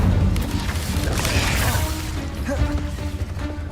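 A burst of spell effects in Hogwarts Legacy as the Incendio fire spell is cast, a dense whooshing, crackling blast that fills the clip and slowly fades.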